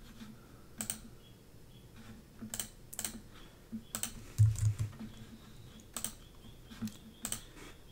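Typing on a computer keyboard while setting permissions in Windows 10, a sparse run of separate close key clicks, with small bursts and a slightly heavier thump midway, no talk.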